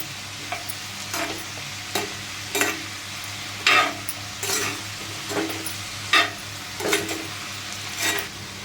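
Val papdi (flat beans) being stirred in a frying pan, with a steady quiet sizzle underneath and about a dozen separate scraping strokes of a spatula against the pan, spaced roughly evenly apart.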